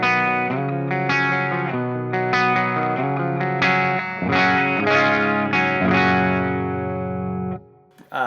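Gibson Les Paul Gold Top 50s Vintage electric guitar on its bridge pickup through a clean amp channel with light plate reverb, playing a run of sustained chords and ringing notes, close and steady with no talking.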